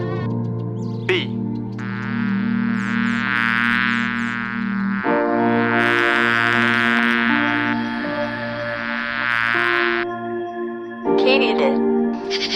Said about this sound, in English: bee,